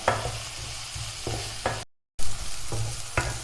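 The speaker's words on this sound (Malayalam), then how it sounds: "അത് സവാള ഒന്ന് ബ്രൗൺ കളറായി വരുന്നത് വരെ വഴറ്റിയെടുക്കാം." Chopped onions and green chillies sauté and sizzle in a hot pan, with repeated scraping stirs of a spoon breaking through a steady frying hiss, broken by a brief moment of silence partway through.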